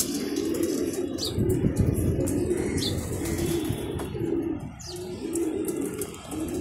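Racing pigeons in a loft coo repeatedly in soft, rhythmic low calls, close by, with faint wing flutters and chirps from other birds over a steady background hum.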